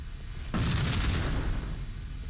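Grenade explosion in Halo inside a hangar, a single heavy boom that hits suddenly and rumbles on as a dense roar with no talk over it.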